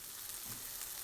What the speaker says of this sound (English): Melt butter over medium heat and add your cattails.